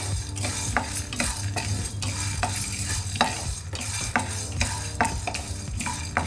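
Gram and peanuts are dry-roasted in a pan, with a spatula repeatedly scraping and stirring them, producing a rhythmic rattling scrape over a light frying hiss, close and fairly loud.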